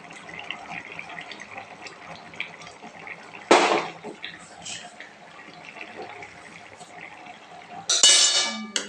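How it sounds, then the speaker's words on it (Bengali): Ghee goes into a pan of potato curry with paneer and raw tomato. Two short bursts of loud hissing sizzle are separated by a few seconds of quieter cooking noise, and a voice speaks in between. "আমি এখন ঘি দিয়ে দিচ্ছি।"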